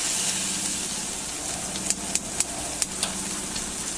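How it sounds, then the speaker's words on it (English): Steady sizzling hiss of cheese cubes frying in olive oil in a pan, with a few sharp pops and crackles in the second half. "So I've got some olive oil heating on a frying pan here."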